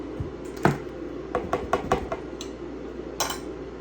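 Utensil clinking and scraping against a dish while cubanelle sweet peppers are mixed, a run of close, light clatters and knocks with a brief louder clink near the end.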